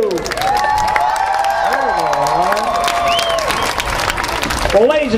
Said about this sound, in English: You've given a lot of applause and a lot of cheering